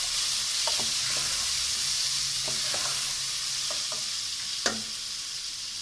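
Tomatoes being stirred into mutton mince in a frying pan for aloo keema: a steady background sizzle broken by several short scraping stirs and one sharper knock.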